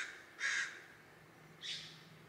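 A crow caws twice outdoors, two harsh, fairly distant calls about a second apart over a faint steady background hum.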